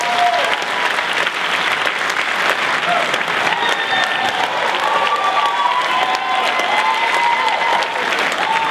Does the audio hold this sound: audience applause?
yes